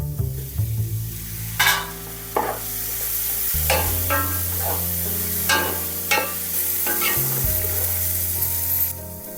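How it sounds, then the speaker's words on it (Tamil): Ginger garlic paste sautés in a pan for chicken biryani, sizzling loudly and steadily up close, broken by repeated scraping strokes of a stirring spoon, with no voices. "இஞ்சி பூண்டு பேஸ்ட்டு நல்லா பச்சை வாசனை போகிற வரைக்கும் வதக்கலாங்க."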